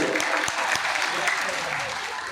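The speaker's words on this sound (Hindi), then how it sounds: "जोरदार ताली बजाइए" An audience at a Shrimad Bhagwat Katha religious gathering breaks into dense, continuous clapping, moderately loud and even across the brief stretch, with a few sharper claps standing out.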